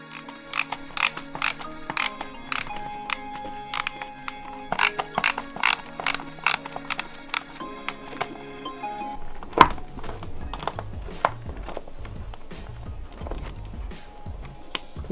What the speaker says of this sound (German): mit dem kleinen Schraubenzieher kommt man auch ran. Und es sind drei Schrauben